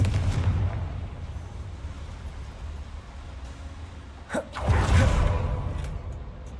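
A Confringo fire spell cast in Hogwarts Legacy, heard as a sharp whooshing burst and blast that rises suddenly from a low ambient rumble, near and fairly loud, with no talk.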